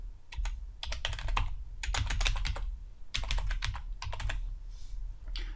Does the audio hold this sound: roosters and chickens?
no